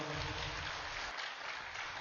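Audience applause at a public speech event, a dense, steady roar of many hands clapping that fills the whole stretch without pause.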